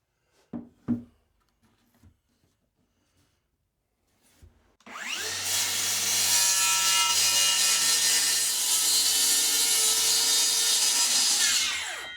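A circular saw slicing through a plywood sheet on a workbench, preceded by a few light knocks and clunks, then a loud, steady, whining cut lasting several seconds before winding down.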